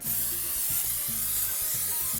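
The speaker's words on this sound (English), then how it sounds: "I'm going to spray it with nonstick spray" A steady, close hiss of an aerosol nonstick cooking spray coating a ceramic baking dish runs almost without a break, with slight pulsing as the can moves.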